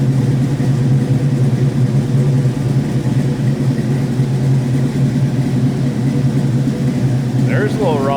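A 1972 Chevrolet Chevelle SS tribute with a big block engine and EFI idles with a low, steady rumble, close and continuous, with a faint higher chirp near the end.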